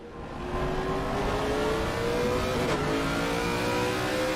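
Race car engine in a sim racing game at Misano accelerating hard, a loud sustained whine that climbs steadily in pitch with a brief gear-change blip midway, no voices over it.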